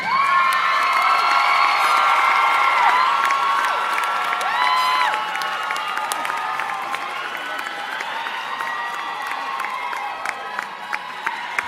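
A large crowd at a school graduation ceremony cheers and whoops loudly with clapping mixed in, the roar easing slightly midway but continuing steadily throughout.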